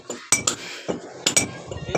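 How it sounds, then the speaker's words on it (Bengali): Chipping a concrete roof surface gives sharp, close metallic clinks in irregular pairs, several distinct strikes with short gaps between them. "এখানে ছাদ খুঁটানো হচ্ছে। এই চিপিং মোটামুটি অর্ধেকটা হয়ে গেছে।"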